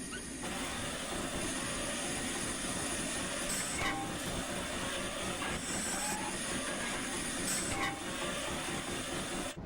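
A simulated New Zealand Railways Class Kb steam locomotive labours along slowly. Its continuous rumbling roll and hiss carry a few brief high squeals and clanks.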